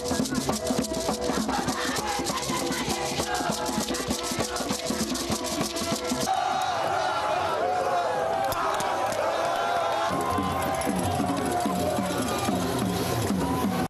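A huge crowd lines the parade route from the Arc de Triomphe to the residence, welcoming President Alassane Ouattara in the Hambol region; dense, continuous festive noise of cheering voices and rhythmic music fills the scene loudly from start to finish.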